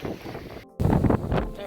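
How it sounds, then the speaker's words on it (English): Strong wind buffets the microphone at the water's edge during a fishing session, a loud steady rumble that cuts out briefly and returns even harder for the rest of the clip. "the camera picks up this fucking wind"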